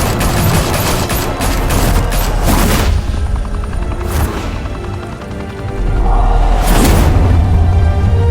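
A squad opens fire in the Batman: The Telltale Series game, loud sustained bursts of automatic gunfire crackling in rapid volleys with heavy booming impacts, pausing briefly before erupting again.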